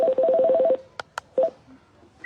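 A telephone number is dialed on a keypad, producing a fast run of short, clear tones followed by a few scattered single beeps and brief clicks in a quiet room.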